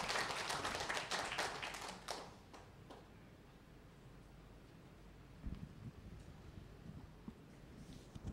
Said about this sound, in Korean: 박수로 이 박수님의 마지막 권면의 말씀 듣도록 하겠습니다